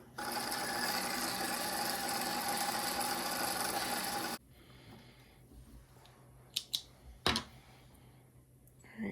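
A home sewing machine in a quilting workroom winds thread onto a bobbin with a steady, fast mechanical whir lasting several seconds, then stops abruptly and leaves a quiet room with a few small handling clicks.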